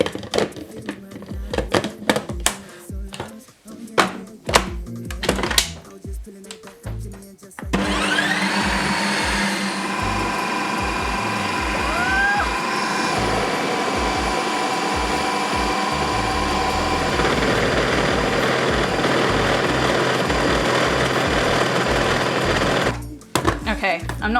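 A new ice cream machine churns pandan ice cream, running as a loud steady motor drone that starts after a few seconds of clatter and persists almost to the end, with an occasional rising whine.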